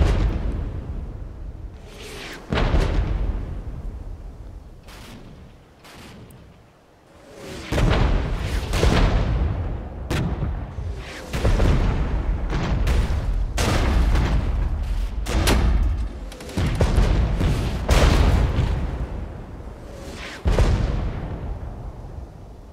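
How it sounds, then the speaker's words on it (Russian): An artillery barrage thunders in the strategy video game Regiments, a long run of heavy booming salvos with rolling blasts in quick succession, loud and close, broken only by one brief lull. "Артиллерия, артиллерия, четверочка. Еще им залпом, еще, чтобы они поняли, с кем они связались."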